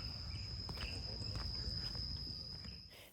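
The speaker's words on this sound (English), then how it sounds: "it's just crickets, that's all you hear" Steady high-pitched cricket chirring runs throughout at a constant pitch, with faint footsteps and outdoor rustle below, tapering slightly at the end, at a Buddhist monastery with no traffic.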